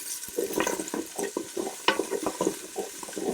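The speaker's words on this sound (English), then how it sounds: "Stir that round." Half a big onion and two cloves of garlic stirred in a cooking pot, a run of close, rhythmic wet scrapes and soft sizzling pulses with no talk.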